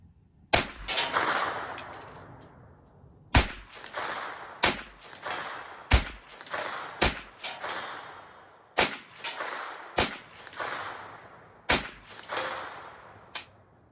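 A Ruger 10/22 rifle fires Winchester ammunition in a string of about a dozen sharp, loud shots, spaced unevenly roughly a second apart, each with a short ringing decay and no talk.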